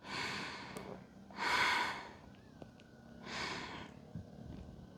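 Deep, slow breathing held through a seated yoga twist: two long airy exhalations, close and clear, with a faint tonal hum and a few small clicks in the quieter gaps, no speech.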